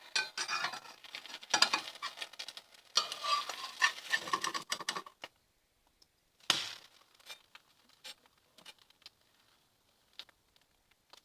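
Metal spatula scraping and clinking against a non-stick pan while golden eyes (egg-in-toast) are turned, busy scraping for about five seconds, then a pause and scattered lighter taps and clinks, close by.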